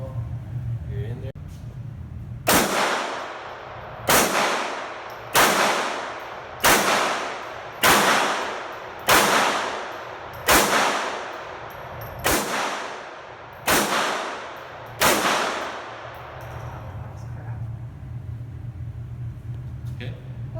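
Nine sharp, loud pistol shots from a Glock 44 ring out at a shooting range, fired at a steady pace about one per second, each with a short decaying tail, with faint talk underneath.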